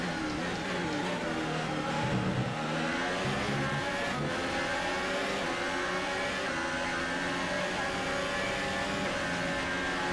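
Ferrari-powered F1 race car engine in the video game F1 2018, racing in the Australian Grand Prix, a sustained high-pitched whine that rises through gears, with a faint voice in the background.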